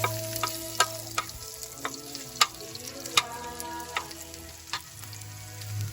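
Onions sauté in a pan over a steady background sizzle, with sharp clinks and scrapes of a utensil against the pan at irregular intervals, close and loud, no voices.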